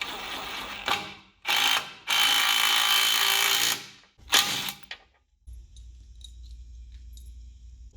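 Riv nut being set with an 11/16 wrench while installing a Jeep JK long arm kit: several loud, close bursts of ratcheting, grinding metal, then a low steady rumble with faint clicks.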